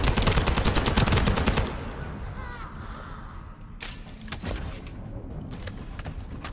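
Gunfire in The First Descendant, a rapid automatic burst for the first couple of seconds followed by scattered single sharp shots, loud and close.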